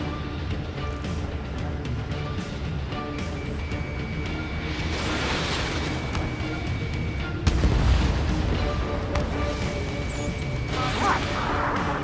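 Allied gunfire and explosions rumble through an Ace Combat 7 air battle, a dense, continuous low roar of fire and engine drone with a sharper crashing burst partway through.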